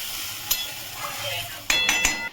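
Water poured into a hot pan of mustard-paste fish gravy, with a low simmering hiss and brief metallic clinks, then a sharper burst of sizzling and clatter near the end, close by.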